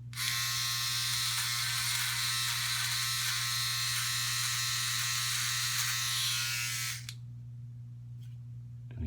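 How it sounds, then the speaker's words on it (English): A Philips OneBlade electric trimmer buzzes steadily and loudly while trimming a goatee, a continuous high whine for about seven seconds before it cuts off, leaving a low background hum. "you see how easy that OneBlade just gets in there"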